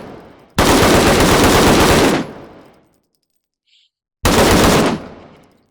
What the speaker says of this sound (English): Let's grab ourselves our AKM here.